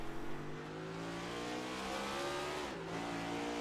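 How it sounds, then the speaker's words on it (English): Race car engine drops pitch in a quick, aggressive downshift at the Daytona Beach 150 HTL Cup Series race, engine tones falling then climbing again, heard steadily over road and wind roar. "you can hear how aggressively she's downshifting too, Carmen."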